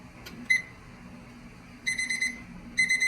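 A digital probe-style oven thermometer's temperature alarm beeping in rapid bursts, a short chirp followed by two longer trains of quick high beeps, close and clear over faint kitchen background hum.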